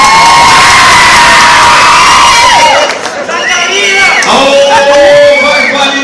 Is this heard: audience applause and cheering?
yes